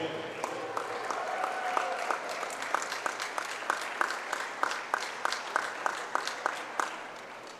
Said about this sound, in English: Ladies and gentlemen, a round of applause for your volleyball seniors.